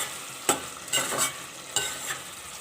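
Potato keema is stirred and fried in a pan: a soft sizzling bed punctuated by four or five distinct scraping stirs close by, without speech.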